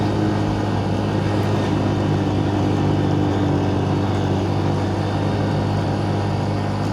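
Motorcycle ridden at speed along an off-road mountain track in northern Pakistan, a steady, loud engine drone with constant rumble and wind noise running unbroken throughout, no talk.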